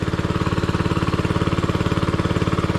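A water pump engine idling while water fills the pipe, a loud, steady rapid chugging throb close by that holds an even rhythm from start to finish.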